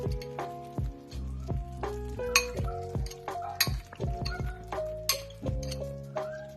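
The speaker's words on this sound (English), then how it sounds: "Now we're just going to mix this around and let it simmer for another 4 minutes." A utensil scrapes and clinks against a pan as sour cream is stirred into a simmering gravy-like sauce, giving irregular metallic taps and rings in quick succession, close and fairly quiet.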